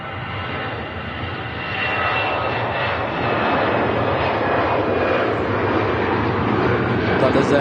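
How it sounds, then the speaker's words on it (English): Qatar wide-body jet airliner arriving at Manchester Airport, a steady loud engine roar that builds slightly as it approaches, continuous broadband rumble throughout with no talk. "it's going to be followed by a wide-body aircraft, a Qatar,"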